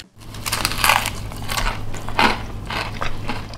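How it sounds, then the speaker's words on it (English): Loud, close crunching bites into a homemade Popeyes-style fried chicken sandwich. Several crisp crackling bites come in a slow rhythm and stand alone with no talking. "And now let's listen to some crunch."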